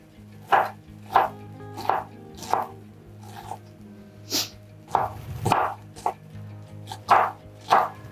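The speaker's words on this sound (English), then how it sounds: "I'm just chopping them." A knife chops white onions into a small mince, giving about a dozen crisp, close knocks at an uneven, unhurried pace, with quiet gaps between strokes and no talking.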